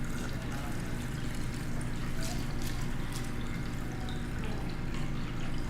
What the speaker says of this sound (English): fill the rest of it with water so that it's totally full